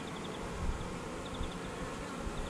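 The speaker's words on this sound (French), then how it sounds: "Là, on est typiquement avec des abeilles qui battent le rappel." A steady, dense buzz of many honeybees fanning at a hive entrance, humming together at close range, continuous and even throughout with no voices.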